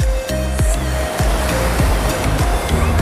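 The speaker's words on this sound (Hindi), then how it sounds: "देखिए देखिए लहर" Ocean waves at Arnala beach near Mumbai roll in and break loudly in a steady series of crashes, with a constant roar of surf and a faint tonal hum running underneath.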